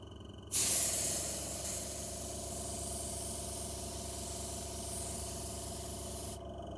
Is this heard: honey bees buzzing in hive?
no